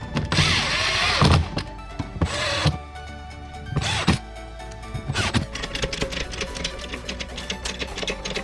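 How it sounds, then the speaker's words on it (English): Screws being driven back into a Ford Escape fog light housing with a power driver, several short whirring bursts separated by pauses and small clicks and thunks, close by. "put your 7 screws back in"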